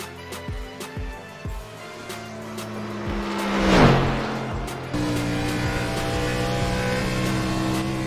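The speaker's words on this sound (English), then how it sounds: "So now we're going to hop in our Sim Seats Total Advantage Chevrolet and make a few laps here" A Chevrolet Camaro race car in a racing simulator game at Rockingham Speedway, engine droning steadily with a few quick shifts, a rising whoosh, a tire squeal, then a higher sustained engine tone.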